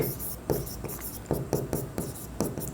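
Marker or chalk strokes scratching across a classroom board in steady repeated strokes, close and fairly loud, with a faint voice in the background.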